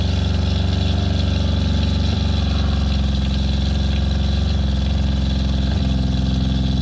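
A water pump aboard a boat runs continuously as it builds pressure, a loud, close, steady motor drone with a strong low hum and faint occasional shifts in tone, with no voices.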